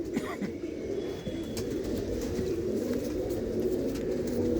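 A racing pigeon, a white-eyed hen with blue-marked plumage, coos in a low, steady, continuous murmur close by, with no talk over it.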